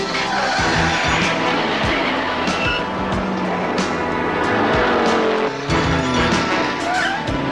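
A car thrown into a handbrake turn, its engine roaring loudly up close amid rough tire scrabbling and skidding for several seconds.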